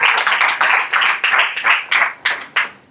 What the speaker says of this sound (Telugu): గట్టిగా చప్పట్లు కొట్టి దేవుని గణపరచు